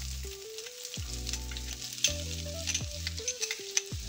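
Chopped garlic sizzling in hot oil with cumin seeds and fried flattened rice, a steady close frying hiss broken by scraping stirs, with background music playing throughout.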